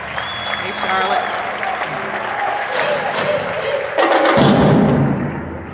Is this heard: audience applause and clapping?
yes